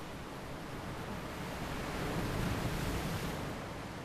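Ocean waves break on the shore in a steady, broad wash of surf, a continuous rushing roar with a gentle swell in the middle and no voices.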